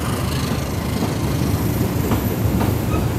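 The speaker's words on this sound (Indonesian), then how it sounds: "rangkaian kereta api Ranggajati ya, baru datang." The Ranggajati passenger train rumbles past close by on arrival, with a continuous heavy roar and faint rhythmic clacking of wheels over rail joints.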